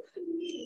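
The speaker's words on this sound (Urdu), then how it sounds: "کبوتر کی آواز، کوے کی آواز، کھیری والے کی آواز آ رہی ہے" Pigeon cooing in an open home courtyard, one low sustained coo close by, with faint higher bird chirps at the end.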